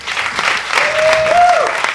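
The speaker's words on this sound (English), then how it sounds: "Nice round of applause," Audience applause at a poetry ball, a dense crowd clapping steadily for two seconds, with cheers and a rising whistle or shout in the middle.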